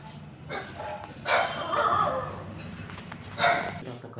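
A dog barks at night outdoors, a few separate loud barks and yelps spread over a few seconds, close to the listener, with faint background noise between them.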